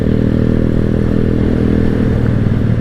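A Keeway CR152 motorcycle on a road ride, its engine droning loud and close with a steady rumble and a faint rattle beneath, holding a constant pace with no voices.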